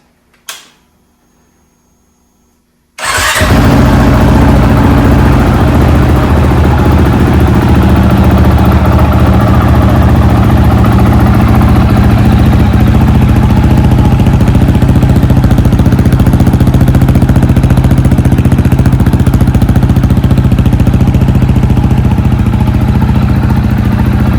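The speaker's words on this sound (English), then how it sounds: "Everything's all installed, wiped down, ready to go for a sound test." A Honda CRF 450RL motorcycle fitted with a Yoshimura RS-4 exhaust fires up after a brief faint clunk, then idles steadily and loudly for over twenty seconds, close by with no talking.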